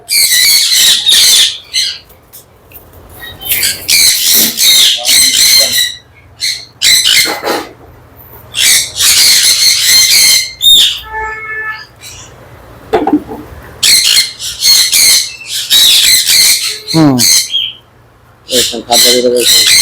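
Breeding pair birds at a large bird farm in Comilla calling loudly and close by, bursts of shrill chirps and squawks broken by brief pauses, with rapid trilling notes in between.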